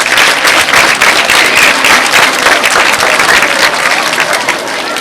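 Schoolchildren at a school assembly applaud, a dense, loud burst of many hands clapping continuously and close, filling the whole stretch without speech.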